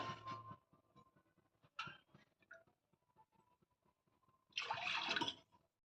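One and a half cups of water are poured into a pan while a rice-flour breakfast dish is being made. A short, splashy gush comes near the end after quieter kitchen clinks, close and fairly loud.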